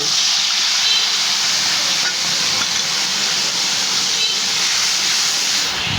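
Onion and garlic spice paste sizzles loudly in hot oil in a kadai, a dense, steady hiss that holds without a break from start to finish.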